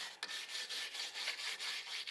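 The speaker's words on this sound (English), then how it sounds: "I also have this wire brush that I'm going to just go over it" A wire brush scrubs the brake caliper of a BMW Z4 sDrive35is E89 roadster, making quick, rhythmic, dry rasping strokes close up and fairly quiet, with no voices.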